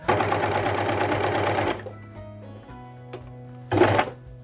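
A sewing machine stitches pajama pattern corners with a rapid, close mechanical whir for a couple of seconds, stops, then runs again in a short burst after a pause filled with faint clicks and hum.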